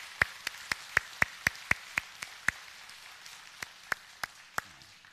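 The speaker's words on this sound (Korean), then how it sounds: "박수하겠습니다" Scattered hand claps in a church service, a dozen or so sharp, separate claps at a fairly even pace that thin out and then resume, faint against a quiet room.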